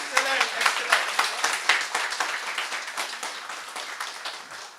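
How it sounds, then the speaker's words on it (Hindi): Audience applause after a business talk session, a brisk burst of many hands clapping in a hall that slowly fades over a few seconds. "आज का सेशन कैसा लगा ये आपके तालियों से महसूस होगा।"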